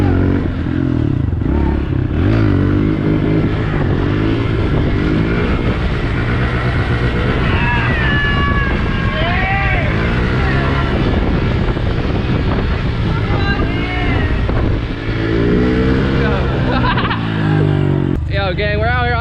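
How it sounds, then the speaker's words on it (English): Dirt bike engine revving and droning continuously while riding outdoors in New York City, loud and close with heavy wind buffeting, shifting pitch as the rider accelerates, with voices talking over it. "we're out here on a freaking dirt bike real quick"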